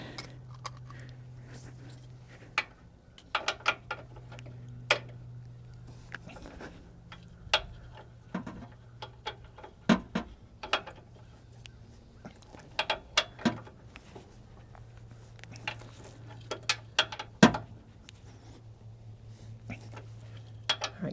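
Ratchet clicking in uneven bursts while working loose a front shock absorber bolt on a GM OBS K truck 4WD, Chevy or GMC, with sharp metallic ticks over a low steady hum and some faint talk.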